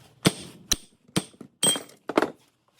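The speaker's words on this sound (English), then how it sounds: "It's damaged, so I'm just going to hammer right on the gear" A hammer strikes a damaged gear on a Ford 9-inch axle from a 1978 Ford Bronco, giving five or six sharp metallic thunks at an uneven pace, close and alone.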